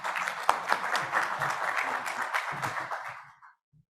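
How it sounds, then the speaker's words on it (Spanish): An audience at a medical symposium on prosthetic heart valve dysfunction applauds a doctor, a dense burst of clapping that holds steady, then thins and fades out to silence near the end. "Un aplauso para el doctor, por favor."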